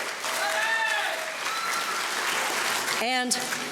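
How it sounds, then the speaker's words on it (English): An audience at the Shepherd University nursing convocation applauds steadily at moderate distance, with a few cheers rising above the clapping and a brief whoop near the end. "another round of applause"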